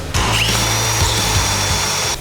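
A power drill fitted with a hole saw cutting a socket opening in a shipping-container house wall, a loud, close, steady whirring grind with a high whine, running continuously for about two seconds.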